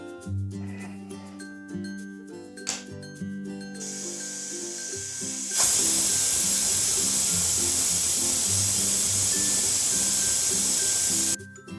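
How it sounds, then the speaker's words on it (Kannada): A pressure cooker holding toor dal with garlic, cumin and a little oil lets out a loud, steady steam hiss lasting several seconds, following a quieter stretch of soft background music. "ಈ ಕುಕ್ಕರ್ ಅನ್ನೋದು ಒಂದು 5ರಿಂದ 6 ವಿಸಿಲ್ ಬರೋವರೆಗೂ ನೋಡ್ಕೊಳ್ಳಿ"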